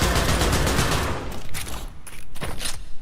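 AK rifle fire in a video game rattles in loud, dense bursts, strongest at the start and then breaking into a few shorter volleys, close and harsh with no voices.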